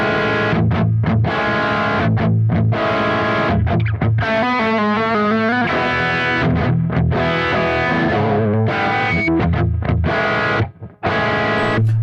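An electric guitar plays heavy, distorted modern-rock chords and riffs through a Positive Grid Spark 40 smart amp, loud and close with sustained crunchy tone, a brief picked melodic passage and short pauses.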